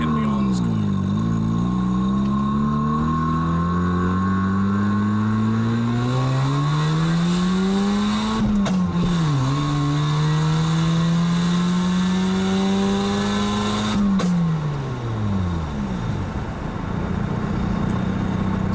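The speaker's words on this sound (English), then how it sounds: "show you how serious the backfire can be on this car." A Mazda RX-7 FC rotary engine revs hard and up close, pitch climbing through long pulls with sudden drops between them and rough crackling from the exhaust, loud throughout.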